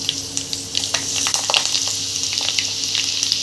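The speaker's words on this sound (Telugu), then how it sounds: "ఎండుమిరపకాయలు కట్ చేసుకున్నట్టు వేగనివ్వాలి." Mustard seeds, curry leaves, crushed garlic and dried chillies frying in hot oil for a tomato pickle, giving a loud, close, steady sizzle with scattered pops and crackles.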